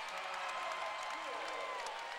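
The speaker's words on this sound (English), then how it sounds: "anytime you get a dunk like that, it'll wake up the crowd" A basketball crowd at a New Orleans vs. Western Kentucky game erupts after a dunk, a steady, dense roar of cheering and applause that fills the arena, with a commentator talking over it.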